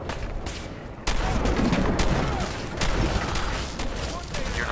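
Rapid shotgun fire in a video game, dense overlapping blasts in quick succession, loud and close, with someone talking over the gunfire.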